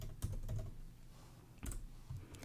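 Fingers type a document name on a computer keyboard, giving a quick run of close, light key clicks in two short bursts with a pause between, and no voices.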